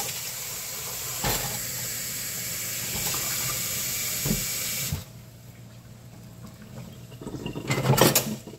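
Tap water running while dishes are rinsed at a kitchen sink; a steady close hiss of flowing water with a few clinks, turning quieter and splashier near the end.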